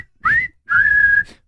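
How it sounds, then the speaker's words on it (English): A person whistles two clear notes, a short rising one and then a longer held tone. The sound is close and loud, with brief silence between the notes. "let's whistle the song that is ready"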